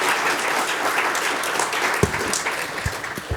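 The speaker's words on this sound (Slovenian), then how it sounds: "lepo prosim za aplavz" Audience applause at a film screening talk, loud continuous clapping from a room of people, with a few close, sharper claps standing out near the end.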